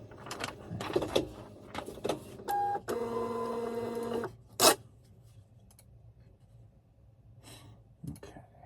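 A label printer feeds out a shipping label in one steady mechanical burst of about a second and a half, with rustling, handling clicks and a sharp tearing snap around it, close and fairly quiet.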